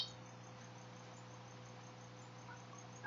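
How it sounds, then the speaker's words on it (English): A feeder cricket kept as frog food gives a steady, continuous chirp that trills in the background, quiet and unbroken throughout. "Do you hear the cricket in the background?"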